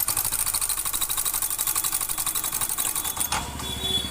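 A Yamaha Alpha scooter engine running with no engine oil gives a loud, rapid mechanical clatter with a steady ticking rhythm, then drops to a quieter idle near the end.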